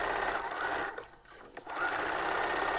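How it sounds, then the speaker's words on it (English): A sewing machine stitches a half-inch seam in stretch fabric with a steady, close motor whirr and needle chatter, which pauses briefly midway and then resumes. "we're going to go ahead and sew that ½ inch seam allowance"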